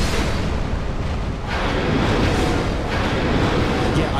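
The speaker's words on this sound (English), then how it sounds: "Explosion." A loud, rumbling explosion from the Dark Souls 2 video game fills the whole stretch as a dense, sustained roar that shifts in intensity partway through.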